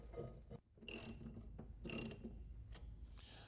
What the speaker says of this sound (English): I'm going to bolt this cross member to our tranny mount.